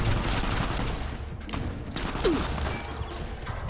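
Gunshots crack in a video game firefight, close and constant, layered in a thick, steady barrage of rapid fire and impacts with no pauses for the whole stretch.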